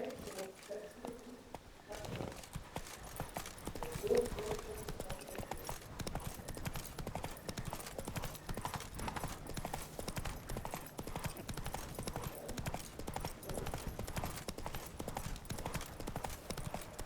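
Hooves clip-clop steadily in The Witcher 3 as the horse Roach trots along, a quiet continuous rhythm under game ambience and low background voices.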